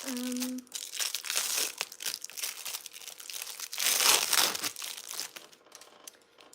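Plastic wrapping is pulled off a piece of plain black fabric in a run of close, crinkling and rustling bursts that peak loudly midway, with a brief voice at the start.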